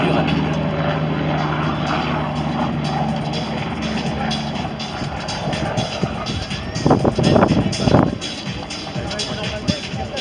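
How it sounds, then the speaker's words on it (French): A helicopter performs at an aerobatics championship air show, its steady engine drone and rotor thrum filling the air, with a French commentator speaking over a loudspeaker and a brief burst of louder activity near the end. "Et cet hélicoptère va basculer d'un seul coup pour fondre vers le sol."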